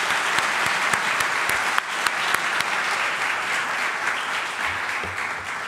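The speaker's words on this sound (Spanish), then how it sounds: "Así que otro aplauso antes de empezar la pregunta." An audience claps steadily and densely throughout, a continuous wash of applause with a few sharper claps standing out and a slight drop in intensity near the end.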